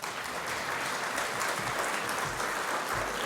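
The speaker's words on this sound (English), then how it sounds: "So another round of applause," A morning festival audience at an innovation event applauds to welcome a speaker, a continuous wash of clapping heard from a slight distance at moderate level.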